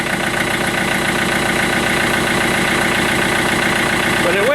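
A car engine idles roughly after a cold start at about -18°C with no block heater, running loud and steady throughout with no break.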